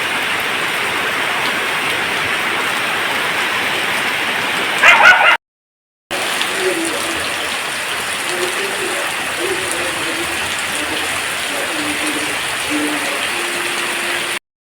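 The year's first rain falls steadily on surfaces outdoors, a dense even hiss that cuts out briefly and returns, with faint sounds in the background.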